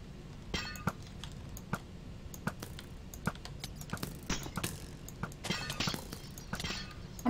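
Glass shattering and clinking in a Minecraft modpack game, with repeated sharp breaking crashes and scattered tinkling shards spread across the stretch, moderately close, with no talk over them.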